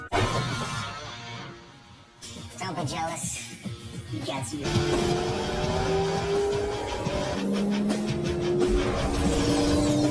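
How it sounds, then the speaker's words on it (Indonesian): In the Ben 10 cartoon, Kevin's birthday car drives off with revving engine noise and a tyre squeal. Narration in another language runs over it. "Ben dan juga lainnya berangkat menggunakan mobil ulang tahunnya Kevin"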